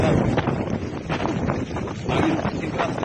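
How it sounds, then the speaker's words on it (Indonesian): Strong wind near a forest fire close to village houses buffets the microphone in rough, roaring gusts that rise and fall throughout. "Angin mungkin keras besar."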